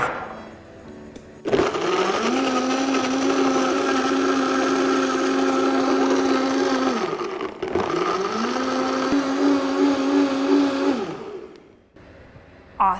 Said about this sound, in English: we're gonna add some ice to our blender. And you can pulse until you find your desired consistency.